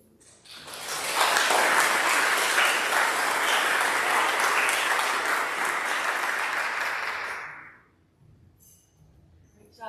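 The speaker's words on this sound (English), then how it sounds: "Can we give them all another round of applause?" A school audience applauds after eighth-grade student speeches, a loud, dense burst of many hands that starts abruptly, holds steady for several seconds, then stops sharply into near silence.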